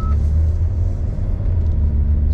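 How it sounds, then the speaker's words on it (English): A 2010 BMW 335d with a swapped 8HP75 transmission drives along, a steady, loud, low diesel drone and road rumble heard from inside the cabin without any talk. "So we'll go ahead and do a quick little drive here"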